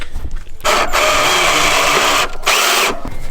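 A power drill drives finishing screws on a 2003 4Runner overland build: two loud, sustained whirring runs separated by short pauses, close up, no speech.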